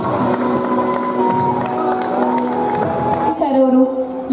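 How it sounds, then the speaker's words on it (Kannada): Loud, sustained applause and cheering fill an outdoor festival crowd in a Bengaluru park, a steady dense roar of clapping that runs throughout and swells near the end. "ಸ್ನೇಹಿತರೆ, ಜೋರಾದ ಚಪ್ಪಾಳೆ ಬರಲಿ."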